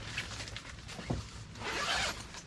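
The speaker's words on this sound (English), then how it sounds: "Zipper snagged here." Zipper on a Walmart Ozark Trail SUV tent being pulled open, a close, scratchy unzipping with a short snag midway, then a longer, louder zip run near the end.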